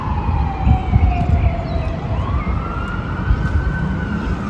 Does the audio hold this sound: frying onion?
no